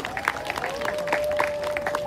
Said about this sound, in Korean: 큰 박수와 함성으로 맞이해 주셨으면 감사하겠습니다.